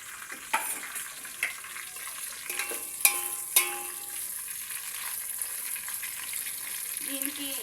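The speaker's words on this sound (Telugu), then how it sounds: "అలాగే పచ్చిమిర్చి వేసేసుకుందాం." Green chillies fry in a pan with onions, a soft steady sizzle broken by sharp scrapes and taps of a spatula stirring, close and moderately loud, with no voices.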